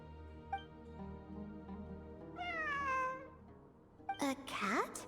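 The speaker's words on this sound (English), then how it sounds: "It really is a cat." A cat meows repeatedly in the Genshin Impact video game, a few short mews followed by a longer rising meow and two sharper meows near the end, fairly faint and heard alone over quiet game ambience.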